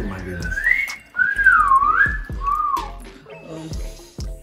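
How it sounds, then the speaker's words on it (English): A person whistles loudly while eating spicy noodles in a challenge, the shrill tone sliding up and down in wavering bursts, broken by short breaths and mouth sounds. "I ain't never really been able to whistle that hard"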